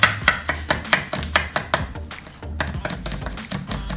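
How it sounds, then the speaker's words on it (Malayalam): Ginger being chopped into small pieces with a knife on a board while making green tomato pachadi, a run of close, crisp, evenly spaced blade strikes with no talk. "പിന്നെ ഇഞ്ചി ചെറുതായിട്ടൊന്ന് നുറുക്കുക, ഒരു ചെറിയ കഷ്ണം ഇഞ്ചി മതി"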